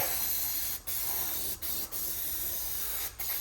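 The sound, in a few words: brake cleaner spray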